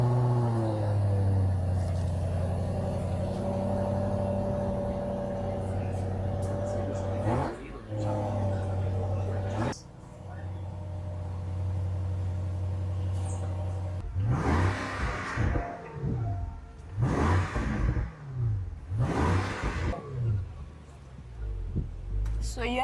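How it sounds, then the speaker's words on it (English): A 2022 Range Rover Autobiography running with engine and exhaust audible, a steady droning idle followed by several sharp revs that rise and fall, with exhaust bubbling and a person talking at times. "that's how the car sounds. Even in normal mode, the car bubbles, as you heard."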